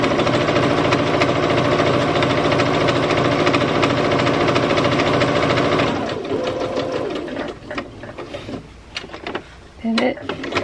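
A sewing machine runs loud and close in a steady, fast whir of needle strokes while top stitching, then stops and gives a few short, uneven bursts with clicks and handling noise.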